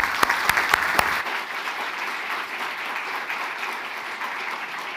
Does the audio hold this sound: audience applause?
yes